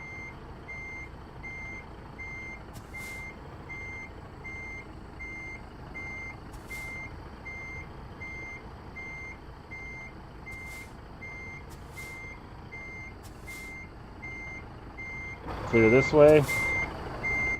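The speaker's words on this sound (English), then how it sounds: "I need to disconnect that backup beeper." A Kenworth T680 truck's backup beeper in American Truck Simulator sounds as steady, evenly spaced electronic beeps over a low engine hum while reversing, with a voice calling out briefly near the end.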